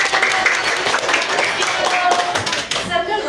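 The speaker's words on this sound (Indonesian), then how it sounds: "tepuk tangan untuk Excel" A primary school class claps for a fifth-grade student during an Islamic studies lesson, giving irregular, somewhat scattered applause with voices talking over it.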